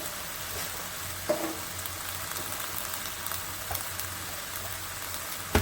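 Mixed vegetables frying in a pan with green chillies added, a steady close sizzle with a few brief clinks and stirring knocks, no talk.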